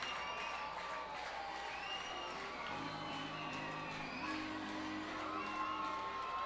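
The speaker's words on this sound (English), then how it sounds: "Crowd getting excited here" A minor league baseball stadium crowd at a Reading Fightin Phils versus New Hampshire Fisher Cats game cheers and shouts, with steady distant roaring and scattered whoops throughout.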